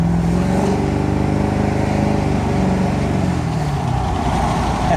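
An LB7 Duramax diesel truck engine, tuned with HP Tuners, holds a steady, loud, gruff drone with a slight rise and fall in pitch as it revs, close by and without voices.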